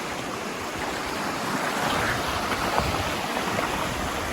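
Floodwater in a fast-rising river near Raipani bazaar, a steady broad roar of rushing water, loud and continuous with no gaps and no voices.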